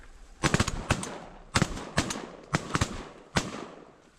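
Several shotgun shots fired at ducks and geese during a Manitoba waterfowl hunt, coming as sharp reports in quick pairs and singles at close range, loud against a quiet outdoor background.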